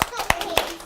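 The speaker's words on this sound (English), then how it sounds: "clap your hands." Children clapping their hands in a group game, four sharp evenly spaced claps close by, with a voice faintly underneath.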